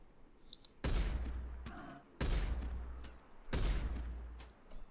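Burst fire from a gun in the video game RimWorld with the Rimeffect mod: three loud, sharp shots spaced about a second and a half apart, each trailing off in a short decaying tail.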